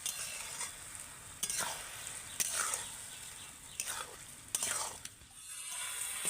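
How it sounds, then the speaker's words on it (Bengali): Soaked rice stir-fried with spices in a pan for egg biryani, scraped and turned with a spoon in repeated strokes over a steady soft sizzle, fairly close, with no voices. "চালটাকে আমি মশলার সাথে ভালো করে এইভাবে নেড়ে নেড়ে কষিয়ে নিয়েছি"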